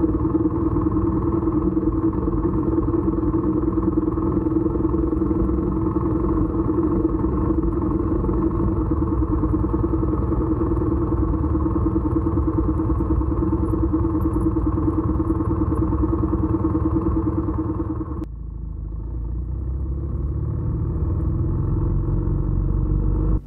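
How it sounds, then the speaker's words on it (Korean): A BMW R1250 motorcycle exhaust drones steadily, dull and muffled as if underwater from an Insta360 camera recording, with a brief dip in the engine note near the end, on an autumn mountain road in Gangwon, Korea. "인스타 360에 녹음된 배기음은 왜 물속처럼 먹먹해졌는지 모르겠습니다"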